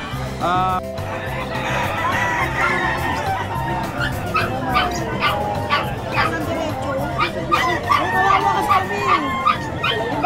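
Several dogs, including bullies and poodles, bark, yip and whimper at a Bocaue pet market, with repeated sharp barks and whines, a rooster or chicken faintly audible, and people talking throughout.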